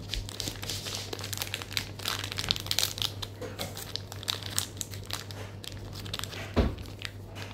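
Japanese mochi in a plastic packet being worked open, giving a steady close crinkling and crumpling rustle with irregular crackles throughout and a sharper burst near the end, set against a constant low hum.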